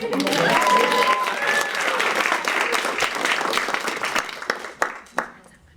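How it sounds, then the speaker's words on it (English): Audience applause at a poetry slam, full and lively at first, then thinning into scattered individual claps near the end, with a few voices and cheers mixed in. "Clap it up."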